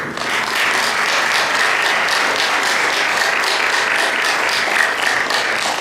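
Audience applause at a Hindu community gathering, a steady, loud wash of many hands clapping with no break for about six seconds.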